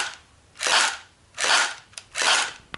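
H&K P30 electric airsoft pistol firing on semi-auto with blowback: three sharp, close shots with a mechanical clack, evenly spaced about three-quarters of a second apart, no talking.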